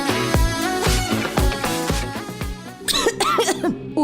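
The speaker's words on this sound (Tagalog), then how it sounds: "Ubo, plemang nakabara," Coughing in a Filipino radio commercial for cough medicine, a few close, harsh coughs set over a music bed with rhythmic percussion.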